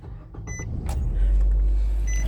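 A used car's engine cranks briefly after a couple of dashboard chimes, then catches and settles into a steady low idle, heard close from the driver's seat.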